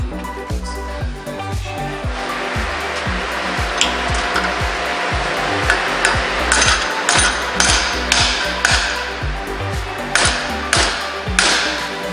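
Repeated sharp hammer blows ring on a metal motor mount held in a vice grip on a Honda CRX, irregular strikes close by, some loud clanging hits near the end over a steady background hum.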